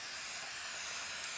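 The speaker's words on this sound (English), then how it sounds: "So now I'm going to spray this side." Spray adhesive hissing from an aerosol can onto foam while fly-tying foam heads and bodies, a continuous soft hiss steady at one level for the whole stretch.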